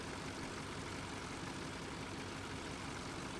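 A small blue tractor engine in Farming Simulator 2013 drones on steadily, a faint even low rumble with no change in pace and no talking.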